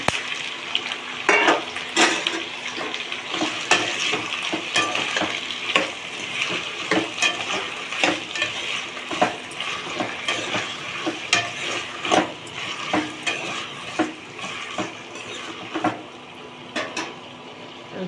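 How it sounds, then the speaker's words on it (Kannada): Tomatoes frying in hot oil in a pan for a chutney to serve with dosa, a steady close sizzle broken by frequent clinks and scrapes as they are stirred, with no voices. "ಚೆನ್ನಾಗಿ ಆಯಿಲಲ್ಲೇ ಹುರಿಬೇಕು ಅದಷ್ಟು ಮ್ಯಾಶ್ ಆಗೋಷ್ಟು ಹುರಿದ್ಬಿಟ್ರೆ ರುಬ್ಬಕ್ಕೆ ಈಸಿ ಆಗುತ್ತೆ"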